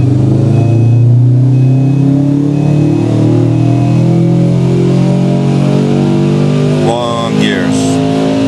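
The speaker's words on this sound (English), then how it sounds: "You can hear the sound of the muffler. It's a really nice tone." A 2008 Subaru WRX with Stage II tune revs hard on a dyno, its muffler giving a loud, rising engine drone throughout a pull, with a brief higher whine near the end.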